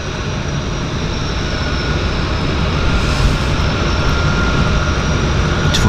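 A Twin Otter aircraft's engines drone loud and steady at Vancouver's downtown harbour airport, a continuous roar that swells slightly midway.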